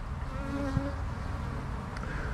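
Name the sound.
honeybees buzzing outside hive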